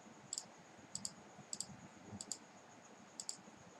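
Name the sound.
mouse clicking while connecting cables in Packet Tracer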